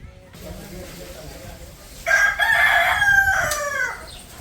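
After a few quiet seconds, a rooster crows once nearby at a cow shelter, a loud drawn-out call that rises and then trails off.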